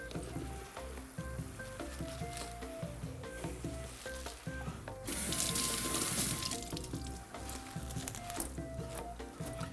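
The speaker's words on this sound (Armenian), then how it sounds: "ընդամենը այսպես ջրի տակ թրջում ենք" Spinach is rinsed under a running kitchen tap while making Mush-style kololak meatballs; a loud gush of water rises in the middle, over steady kitchen sizzling and background tones.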